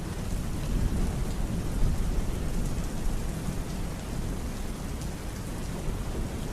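Steady, dense rainfall with a low rolling thunder rumble underneath, continuous and even throughout, no voices.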